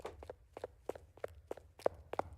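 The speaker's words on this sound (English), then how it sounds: "if you heard that like second footstep like that." Footsteps in the ghost-hunting video game Phasmophobia sound as a steady run of about eight sharp, evenly spaced thuds, faint and distant against near silence.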